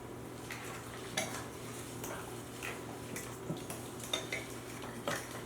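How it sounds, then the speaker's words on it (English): A spoon or whisk clinks against a bowl while wet ingredients are mixed for a banana recipe in a home kitchen, with irregular taps and scrapes at close range over a faint background hum. "you're going to mix the wet ingredients all together"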